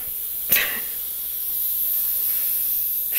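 Artificial snow spray can hissing indoors, a sharp burst of spray followed by a steady, loud airy hiss that continues to the end without talk.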